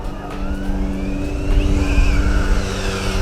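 An Arrma Infraction V2 RC car on a speed run at 75% throttle, its electric motor whining in rising and falling pitch sweeps, building in loudness as it passes fairly close.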